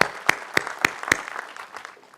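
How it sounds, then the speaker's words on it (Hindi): A few sharp, evenly spaced claps ring out at a felicitation event, standing out loudly over a murmuring background before tapering off. "इनके जोरदार तालियां दिया जाए"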